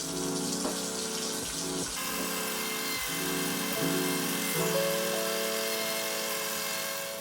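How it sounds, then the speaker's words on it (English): An electric toothbrush hums steadily and close, with its buzz dipping slightly every second or so as it moves around the teeth. "And again, with your toothpaste, put it on before you turn on the toothbrush."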